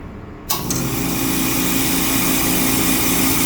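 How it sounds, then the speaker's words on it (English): A compressor on a nitrogen-only system kicks on with a sudden onset and settles into a loud, steady mechanical drone with a constant hum, running alone without talk. "The compressor is going to kick on."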